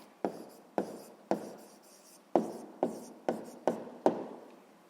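Pen strokes write out an answer by hand on paper during a sixth-grade math exercise: eight short, scratchy bursts in an uneven rhythm, close and quiet, each one fading quickly.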